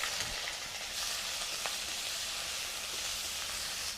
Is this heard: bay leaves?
yes